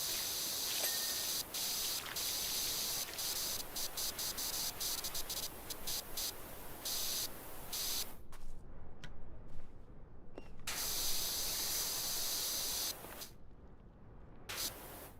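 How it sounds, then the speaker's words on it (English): Steady hissing spray of a pressure washer in Powerwash Simulator, loud and continuous broadband water noise filling most of the span, with brief gaps where the spray cuts out and resumes, no talking. "But no, we get silent and spraying noises."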